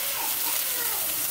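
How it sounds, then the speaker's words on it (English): Onions sizzle steadily in a hot pan alongside searing pork chops, a bright continuous hiss heard close up and fairly quiet, with no talking over it. "So we're gonna put the onions in here. You hear that sizzle?"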